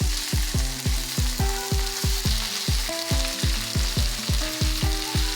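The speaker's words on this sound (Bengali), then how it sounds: "পেঁয়াজ আর টমেটো দুটোকেই আমরা লালচে করে ভেজে নেব।" Chopped onion and tomato sizzle in a pan while being fried until reddish, with a steady rhythmic series of scraping stirs repeating about every third of a second, close and alone.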